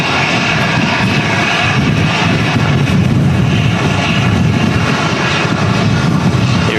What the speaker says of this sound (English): Here is EasyJet coming in now.